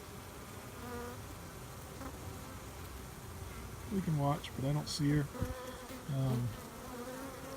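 Honeybees buzz around a queen cage at a hive, a continuous hum with louder close passes, while a person speaks quietly over it.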